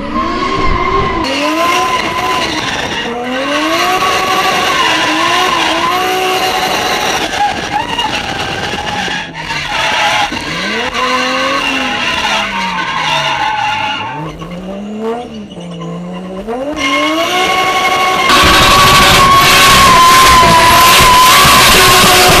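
A Toyota Supra drifting at a race event, its engine revving hard and rising and falling over a long, sustained tire squeal, loud and close, with a crowd faintly in the background.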